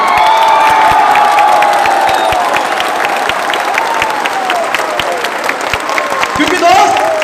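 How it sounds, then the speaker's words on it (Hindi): A standing crowd at a speech event breaks into loud, sustained applause for the leaders, dense clapping with cheers and whoops rising near the end, while a voice talks over it. "दोस्त मैं चाहूंगा एक बार खड़े होकर दोनों हाथ जोड़कर जबरदस्त तालियां बजाई जाए उनके लिए"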